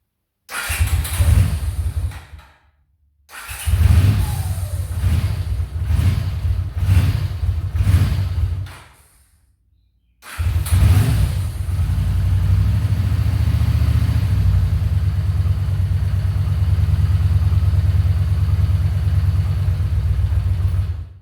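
A Honda CX500 motorcycle engine cranks over in two short attempts, then catches and settles into a steady, loud, low idle that carries on to the end.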